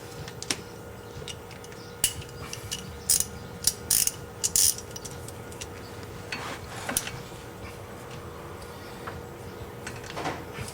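A 5mm socket ratchet works on a front brake bolt of a 2013 Dodge Dart, giving several short, sharp bursts of clicking close up, spaced out over a quiet workshop background.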